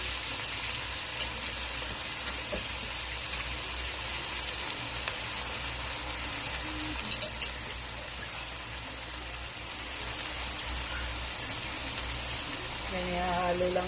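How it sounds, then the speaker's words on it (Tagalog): Boiled beef being stirred into sautéed onion, garlic and siling labuyo chili, a steady loud sizzle with faint scraping of the stirring, continuous throughout with no talking. "Halo lang natin sa ating ginisang sibuyas at bawang na may siling labuyo."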